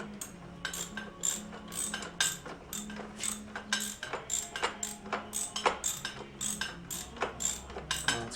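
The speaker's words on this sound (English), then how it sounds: "And then we get the torque wrench." A torque wrench tightens a nut on a Royal Enfield Continental GT 650 motorcycle with a close, steady series of rapid ratcheting clicks, repeated rhythmically across several seconds with a faint low hum beneath.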